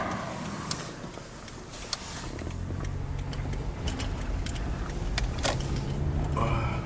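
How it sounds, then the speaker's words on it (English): Cars pass by on a snowy road in Canada, a continuous broad road rumble and tire hiss swelling and fading as vehicles go by at moderate distance, with faint clicks and no clear talk. "some cars passing by"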